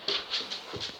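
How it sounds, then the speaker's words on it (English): A 14-year-old dog pants in quick, breathy bursts close by, with a faint whimpering quality and no talking. "This is my old dog, Bajo."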